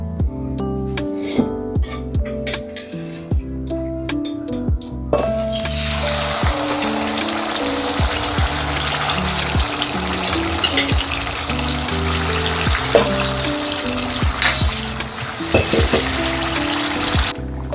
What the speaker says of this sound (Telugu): ఈ ఆయిల్ హీట్ అయ్యాక ఇప్పుడు మనం ముందుగా ఉడికించుకున్న మటన్ వేద్దాం.